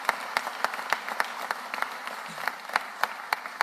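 An indoor audience at a Philadelphia city government announcement gives a round of applause, with steady, moderately loud clapping throughout.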